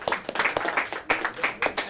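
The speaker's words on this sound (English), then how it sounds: "round of applause" Short round of applause at a game development club meeting during officer elections, a brief cluster of quick claps from a small group in a room, with some voices mixed in.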